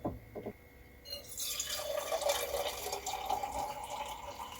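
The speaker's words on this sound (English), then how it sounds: "You literally just pour your water in your cup." Hot water is poured into a cup in a steady stream, the splashing tone rising as it fills, after a few soft clinks.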